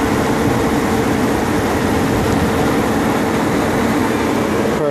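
BMW 750iL 5.4 V12 engine idling at a steady, even rumble close to the microphone, continuous and alone with no talk.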